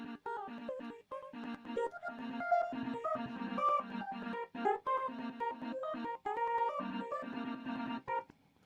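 Quiet synth pads through a spectral resonator with MIDI sidechain, metallic ringing resonance pulsing in a choppy rhythm, chords swelling and cutting off in quick succession.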